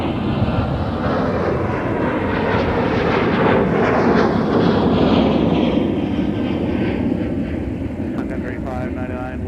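Southwest airliner taking off from MSP airport, bound for Chicago Midway: a loud, steady jet engine roar holding across the whole stretch, swelling slightly in the middle, with faint background voices.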